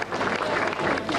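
Dense crowd applause fills an awards ceremony, a steady close wash of many hands clapping with no speech over it.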